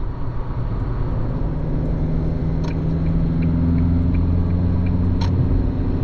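Inside a 2024 Isuzu D-Max SX pickup with a 1.9-litre engine and manual gearbox, a steady low engine rumble with faint tonal hum builds gradually under acceleration toward highway speed, with a couple of soft clicks.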